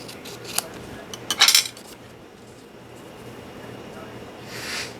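Scissors cutting checkered patterned paper for a scrapbook embellishment, a short cluster of crisp snips close by, then quiet room tone with a faint rustle near the end.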